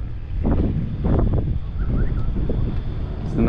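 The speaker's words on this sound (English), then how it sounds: "It's gonna get even more windy now as we get around this bend" Wind buffets the microphone on a Sydney Harbour boat tour, a low rumbling roar with gusty swells over faint boat and water noise.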